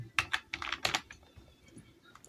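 Close keystrokes on a computer keyboard while entering a formula in an Excel sheet: a quick burst of four or five crisp clicks, then a few softer scattered taps trailing off.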